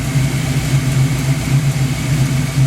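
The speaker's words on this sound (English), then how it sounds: "It definitely idles crisper" A Pontiac Firebird engine fitted with a new Quadrajet carburetor idles loud and close with a steady low rumble throughout, without talk.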